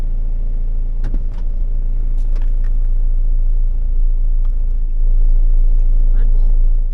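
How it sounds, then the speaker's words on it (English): A car engine idling while warming up on a cold winter morning while camping, a low steady rumble heard from inside the vehicle with small knocks and shuffles nearby. "I'm gonna turn that on and let the car heat up for a bit before I actually leave."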